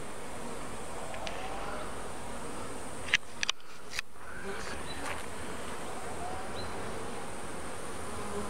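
Honey bees from a morning swarm of medium size fly around outdoors in the afternoon, a steady, fairly faint buzzing hum that runs throughout, with a few brief knocks near the middle.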